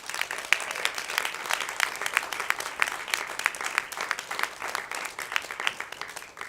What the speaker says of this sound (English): he deserves a thank you and a round of applause